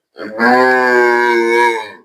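A cow on a Punjabi dairy farm, shown for sale, gives a single loud, close moo that lasts about a second and a half, with a rich harmonic tone and no talk over it.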